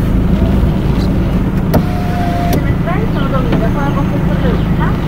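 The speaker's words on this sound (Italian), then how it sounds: "Andiamo in macchina e partiamo." A car's interior as it sets off for a drive-through, with steady engine and road hum, a power window or motor whine, and people talking throughout.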